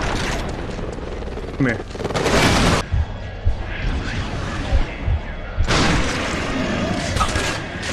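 Auger weapon fire in the Resistance video game: loud, rough sustained bursts of sci-fi gunfire that rise and fall across the clip, with a person talking over them.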